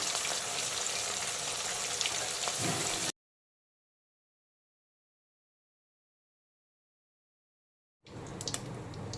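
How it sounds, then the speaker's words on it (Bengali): Pieces of rui fish frying in oil in a wok, a steady close sizzle that stops abruptly into silence for several seconds, then returns. "এখন বাকি মাছগুলোকেও একইভাবে উল্টে পাল্টে কড়াইতে ভালো করে ভেজে তুলে নেব।"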